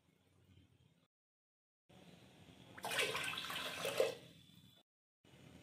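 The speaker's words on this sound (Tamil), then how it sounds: "மூணு கப் பால் சேர்த்துக்கலாம்" Raw milk poured into a pot for paal pongal, a close liquid splash and gurgle lasting about two seconds amid quiet kitchen sounds.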